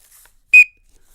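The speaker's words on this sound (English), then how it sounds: "it's a whistle" One short, sharp, high-pitched whistle blast, loud and close, with near silence before and after.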